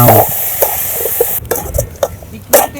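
Onions and tomatoes frying in a pot for a village-style fish curry, with a steady sizzle and scattered scraping clinks of a spoon stirring against the metal, close and fairly loud, without talk.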